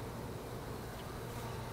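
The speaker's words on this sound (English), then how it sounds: "So the bees are kind of on their own here." Honeybees from a newly installed package hive buzz continuously around it, a steady close droning hum that holds through the whole moment with no voices.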